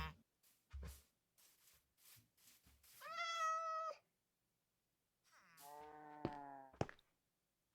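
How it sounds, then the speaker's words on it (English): A white cat meows twice in Minecraft, each meow a drawn-out, tonal call about a second long, set apart by quiet gaps and soft clicks. "we got a white cat down there"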